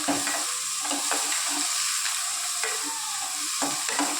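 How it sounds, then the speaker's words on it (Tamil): Steady sizzling from a hot pan as green chilies fry for chicken sambar, with repeated light scrapes of a spoon stirring, close and constant throughout. "பச்சை மிளகா போட்டு தாளிக்கிறது"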